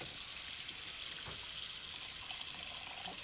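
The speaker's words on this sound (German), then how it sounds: "Und das jetzt hier vielleicht voll Wasser machen, diesen Topf." Cold tap water runs steadily into a cooking pot at a kitchen sink, a continuous close hiss and splash filling the whole short stretch without pause.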